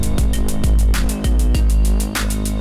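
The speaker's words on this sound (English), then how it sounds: "So now let's listen to the bass." Bass in a music mix plays back loud and close, with deep booming notes pulsing in a steady beat over a sustained low hum and no voices.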